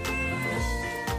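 A stray cat meows loudly and close by: one drawn-out, wavering cry that nearly fills the moment, with no voices over it.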